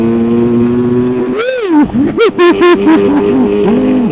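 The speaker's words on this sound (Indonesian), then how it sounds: "motor kecil suara gede" A small Yamaha RX-King motorcycle engine from 1983 idles steadily, then revs up in a sharp burst followed by several quick throttle blips before settling back to idle.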